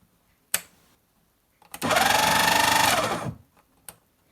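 A Schredder PS300 shredder with a newly repaired helical gear runs for about a second and a half with a steady mechanical whir. Clicks come before and after the run. The machine is close and loud against a quiet room.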